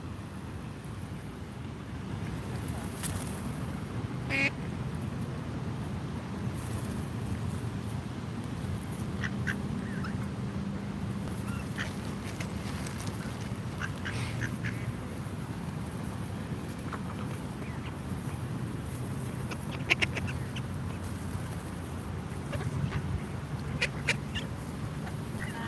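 Ducks quacking outdoors in Washington DC, scattered raspy quacks in irregular bursts across a long stretch, some near and some farther off, over a constant low rumble of wind and background noise.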